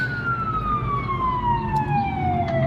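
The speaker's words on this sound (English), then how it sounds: "I hear a siren. I see a fire truck." A fire truck siren wails steadily in a long falling tone across a downtown Hillsboro street, loud and continuous with traffic rumbling underneath.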